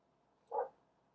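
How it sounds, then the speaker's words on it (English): A dog barks once outside, a single muffled, distant bark standing alone against a quiet room. "my dog's barking outside"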